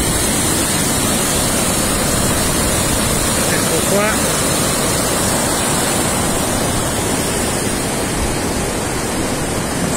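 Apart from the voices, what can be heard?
rushing water of the Tanaro river seen from the Meier bridge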